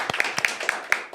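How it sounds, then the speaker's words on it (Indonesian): A small group claps in a podcast studio, a handful of sharp, separate hand claps spaced irregularly over about a second, close and clear. "beri tepuk tangan untuk kita semua"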